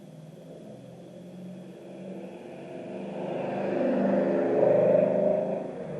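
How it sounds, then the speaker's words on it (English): A loud car passes close by at night, its engine rumble swelling steadily over several seconds to a peak near the end before starting to fade, with no talking heard. "Very loud car just went by."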